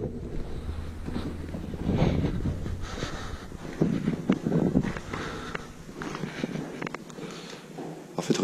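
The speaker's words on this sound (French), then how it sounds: "Il y a de l'eau, là." Water in an underground tunnel during an urban exploration, a steady rushing wash with gusts of wind noise on the microphone, fairly loud and continuous with no talking.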